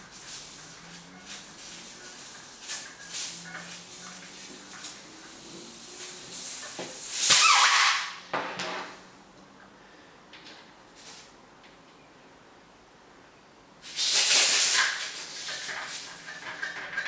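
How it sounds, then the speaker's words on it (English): Air hisses out of a newly fitted Giant bicycle tubeless tyre that won't hold pressure, in two sharp, fairly loud bursts separated by quieter handling noises. "he says as he knocks a load of air out of it"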